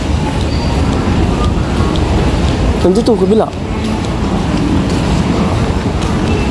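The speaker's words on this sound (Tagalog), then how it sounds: "Sasakay tayo ng train, hindi tayo pwede mag-exit." Taoyuan Airport Line MRT commuter train ride, a continuous loud rumble of the moving carriage with a brief whining tone in the middle, while a person talks over it.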